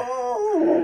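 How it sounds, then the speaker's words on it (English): A short, close dog howl or whine, its pitch sliding downward over under a second. "that's my dog"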